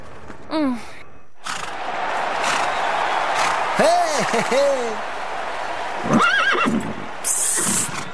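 A racehorse at a ranch whinnies, with a short whinny near the start, a louder neigh in the middle and another toward the end. Breathy snorts, a thud and faint movement sound between them.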